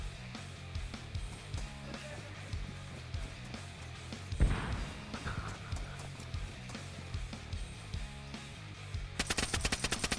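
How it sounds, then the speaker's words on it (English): Video game gunfire rings out during a raid, a steady crackle of shots with one louder blast near the middle and a rapid burst of shots at the end. "I started trying to shoot my way in"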